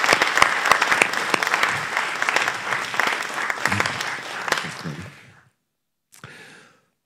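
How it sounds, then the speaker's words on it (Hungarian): An audience at the 19th Reformed Music Festival gives sustained applause to the festival founder, a dense clatter of many hands that fades out after about five seconds, followed by a brief faint burst. "tapsoljuk meg Beszörményi Gergelyt"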